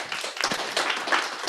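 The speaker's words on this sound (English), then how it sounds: "Big round of applause for Kenna." Applause from a live audience at a blockchain gaming event in Nairobi, a short burst of fairly close clapping that runs steadily throughout without speech over it.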